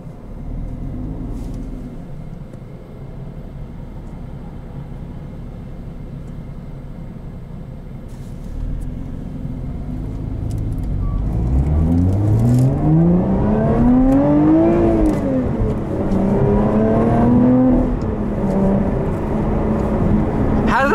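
A 2021 Lotus Evora GT accelerates hard in sport mode, its engine climbing through rising revs with a gear change between pulls, loud from inside the cabin over a low road rumble.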